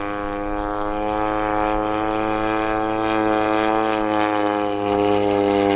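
A Phoenix Waco model airplane cruises at half throttle, its engine and propeller holding a steady, loud buzzing drone with slight swells in level throughout.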